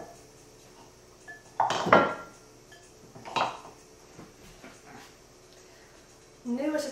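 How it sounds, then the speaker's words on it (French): Eggs and flour being mixed in a bowl for crêpe batter, heard as a few distinct clinks and scrapes of utensil against dish, the loudest near the start and a softer one midway, with quiet gaps between. "Maintenant, nous devons mélanger les œufs et la farine dans"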